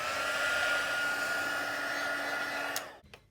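Hair dryer blowing on wet paint on a painting, a loud, steady close-up whine and rush of air that runs continuously before switching off abruptly, followed by a brief clunk.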